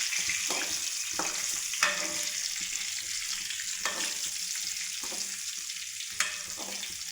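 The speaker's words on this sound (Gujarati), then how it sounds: "હવે આપણે ભરેલા મરચાં તળી નાખીએ." Stuffed chillies frying in oil in a pan, a steady close sizzle with a few soft scraping stirs and light clinks of a spoon turning them, with no talking.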